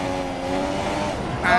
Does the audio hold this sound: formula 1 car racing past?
yes